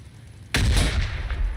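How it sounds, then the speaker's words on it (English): In the Warhammer 40K Battlesector video game, crack grenades burst against an enemy vehicle: a quiet lull, then one sudden loud blast at half a second that rumbles and crackles away over the following second. "See what our crack grenades can do to this Death Thread here."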